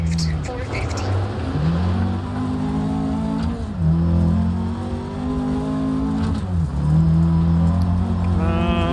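A rally car engine in a racing video game revs loud and close, climbing through gears and dropping back in repeated cycles as the car accelerates and slows, with a voice speaking over it.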